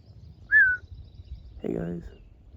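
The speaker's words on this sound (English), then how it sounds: "Little birds." A small bird gives one clear, high chirp outdoors at a campsite near Broken Bow, Oklahoma, followed by a short, lower croaking call, with quiet background between.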